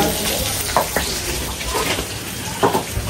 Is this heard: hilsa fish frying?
yes